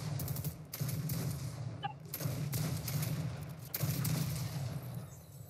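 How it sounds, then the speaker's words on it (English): Rapid bursts of drum gun fire in a Fortnite match, several clustered volleys at mid distance, loud and crackling with short pauses between them. "Somebody has a drum gun, I think."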